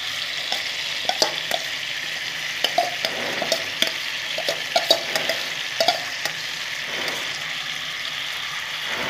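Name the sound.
frying daliya, mung dal and vegetables in pan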